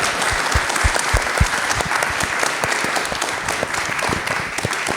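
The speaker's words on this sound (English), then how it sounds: "Please join me with a round of applause for our wonderful panelists." Dense, steady round of audience applause for a panel at a hospitality technology industry event, many hands clapping close and loud with no talk over it for the full stretch.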